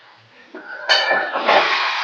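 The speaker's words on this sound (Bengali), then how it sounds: "নেড়ে নিচ্ছি ভালো করে মাংসটাকে।" A spoon scrapes and clinks against a pot while chicken and potato curry is stirred, soft metallic scraping building into a louder, steady sizzle and rustle.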